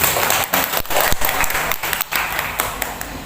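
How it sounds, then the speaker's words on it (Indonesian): An audience claps for the women at a capacity-building session in Kepung district. The applause is steady and dense, with a few brief dips, and lasts about three seconds. "Tepuk tangan untuk ibu-ibu."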